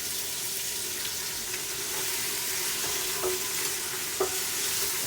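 Minced meat sizzles in a pan on top of onions, a steady close hiss of frying with a couple of soft stirring knocks, no voices.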